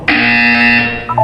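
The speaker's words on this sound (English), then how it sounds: "When you hear the buzzer, look down at the floor." Test buzzer in the Portal 2 video game: a single loud, steady electronic buzz holding for about a second before stopping.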